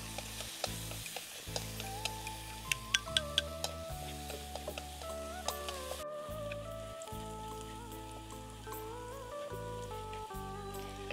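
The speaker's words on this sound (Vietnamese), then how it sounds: "phi cho cái tỏi nó vàng lên." Minced garlic fries in oil in a pan with a soft, continuous sizzle and occasional stirring taps, heard under louder background music.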